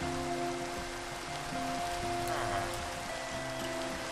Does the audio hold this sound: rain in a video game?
yes